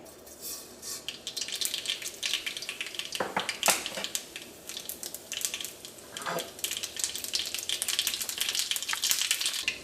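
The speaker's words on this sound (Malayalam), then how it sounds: "വെളിച്ചെണ്ണ നന്നായിട്ട് ചൂടായിട്ട് ഇതിലേക്ക് നമുക്ക് ആദ്യം തന്നെ നമുക്ക് കടുക് ഇട്ടിട്ട് പൊട്ടിക്കാം" Mustard seeds crackle and spit in hot coconut oil, a dense, continuous spluttering with sharper pops here and there, close up and fairly loud.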